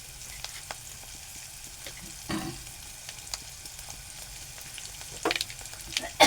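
Curry leaves and garlic crackle and sizzle in hot oil in a pan while cooking a cluster bean and potato vegetable dish, a steady close frying hiss with a few louder spattering bursts and stirring scrapes, with no speech.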